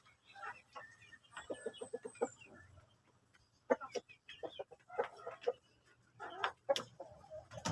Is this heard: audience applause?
no